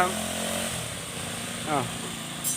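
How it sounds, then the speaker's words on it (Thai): Grass trimmer engine drones steadily at close range during volunteer village grass cutting, a continuous buzzing hum with a slight rise near the end, while someone speaks over it. "ต้องขออนุญาตที่มีเสียง เพราะเครื่องตัดหญ้าดังนะครับ"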